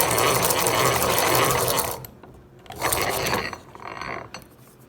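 A Stanley 77 dowel machine cuts a wooden dowel rod in a sawmill, giving a dense mechanical whir and rasp that drops out briefly, then returns in two shorter bursts.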